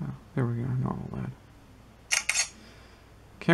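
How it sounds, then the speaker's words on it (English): Synthetic shutter click from a BLU Life 8 smartphone camera, a quick double burst of bright clicks that follows a stretch of talk and stands apart from it, with a fainter click near the end. "Camera shutter is a little slow off the gate."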